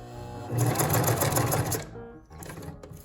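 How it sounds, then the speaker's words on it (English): A sewing machine stitching a button onto fabric for a pillow, a close, fast whirring run of about a second and a half that then slows and stops. "we sewed on the button"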